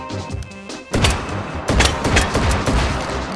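A semi-automatic WWII-era shotgun fires in the H3VR virtual-reality shooter, with three heavy, booming shots spaced about a second apart, each trailing off into a reverberant decay.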